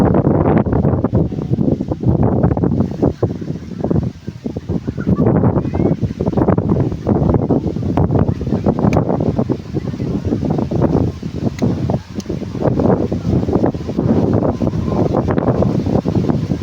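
Strong gusty wind buffets the microphone at a beach swimming area in Civic, roaring loud and uneven throughout with constant rumbling bursts.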